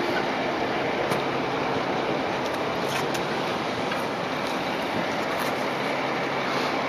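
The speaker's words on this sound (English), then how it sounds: "So I heard that train, which means I just missed it." A loud, continuous broadband rumble and rushing roar carries steadily throughout, like a train rolling past nearby, with faint metallic clicks.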